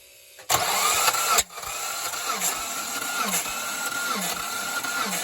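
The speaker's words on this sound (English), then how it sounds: "So let's run a compression test. Crank it." A Mitsubishi Montero (third generation) engine cranks over on the starter during a compression test, a loud steady mechanical churn with rhythmic pulses after a brief burst at the start, heard alone without talk.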